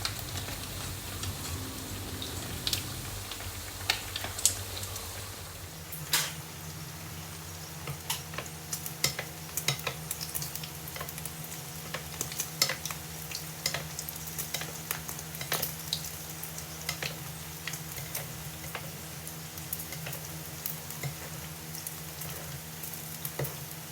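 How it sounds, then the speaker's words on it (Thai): Pork skin for kau yuk deep-frying and puffing up in hot oil over medium-high heat, giving a steady close crackling sizzle dotted with sharp pops and ticks throughout, with no voices. "พอเราใส่ลงไปหนังหมูก็จะฟูขึ้นมาแบบนี้นะคะ ทอดให้ฟูทั่วทั้งชิ้นเลยค่ะ"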